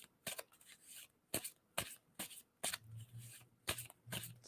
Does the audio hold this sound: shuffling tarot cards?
yes